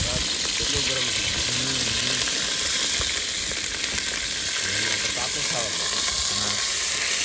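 Chopped onion hits hot oil in a pan and fries with a loud, continuous sizzle and hiss up close, while voices talk over it at intervals.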